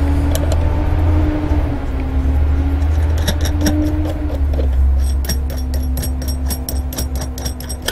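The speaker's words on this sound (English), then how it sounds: "sorry about the traffic, we seem to have quite a lot going past today." Steady road traffic rumbles past outside a home workshop, a continuous low engine drone with some passing vehicles, heard alongside light clicking and tapping from work on a book-made bronze reading lamp.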